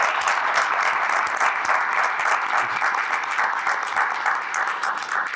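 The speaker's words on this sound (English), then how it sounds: "give a round of applause to family members, parents, and educators" Steady round of applause from a crowd at a township committee meeting, dense clapping holding at an even loud level throughout with no talk over it.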